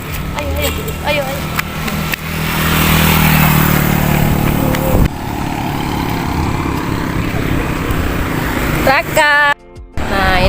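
A motorcycle ride through an Indonesian neighbourhood on the way to help neighbours cook for a celebration, engine droning steadily up close with wind buffeting, while people talk over it and a brief break near the end.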